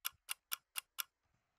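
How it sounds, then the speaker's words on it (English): A clock-tick sound effect placed in an Ableton bass house drop: five crisp, evenly spaced ticks play alone and up close, followed by a faint trailing click. "We've got a little clock sound."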